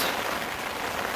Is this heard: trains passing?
no